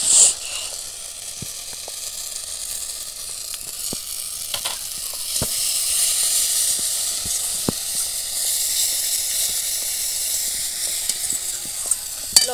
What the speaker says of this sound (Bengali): এখন আদাটা ভালো করে কষানো হয়ে গেছে দেখুন বন্ধুরা।